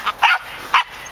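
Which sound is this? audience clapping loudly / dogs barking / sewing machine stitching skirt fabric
dogs barking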